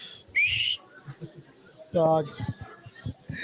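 A sharp whistle shrills briefly near the start, with voices talking and another bright tonal burst partway through.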